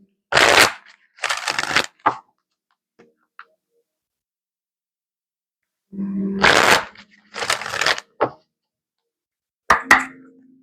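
Dragon Oracle cards being shuffled by hand, several short riffling bursts separated by silent pauses, close and crisp, with a faint tap near the end.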